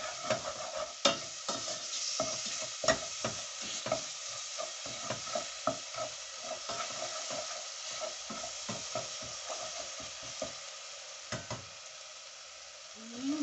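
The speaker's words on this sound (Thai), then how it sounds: "ผัดให้สามเกลือหอม" Sam kluea paste of garlic, coriander root and pepper stir-frying in a pan, a soft continuous sizzle broken by frequent light spatula taps and scrapes, fairly quiet and close.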